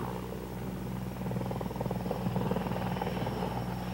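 A CH-54 Tarhe heavy-lift helicopter taking off, its rotor and turbine roaring steadily with a fast, rhythmic blade chop that grows slightly louder, heard from nearby with no talking.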